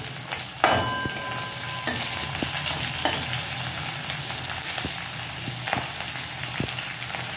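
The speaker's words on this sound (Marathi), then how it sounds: "आपल्याला लसूण मिरची चांगल्या प्रकारे परतून घ्यायची आहे" Green chili and garlic sauté in a hot pan with a steady, close sizzle, broken by a few clinks and scrapes of a spoon stirring through the oil.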